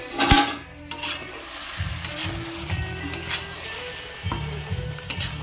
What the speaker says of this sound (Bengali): এখন নেড়ে দেবো ভালো করে